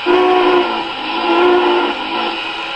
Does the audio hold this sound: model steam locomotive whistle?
yes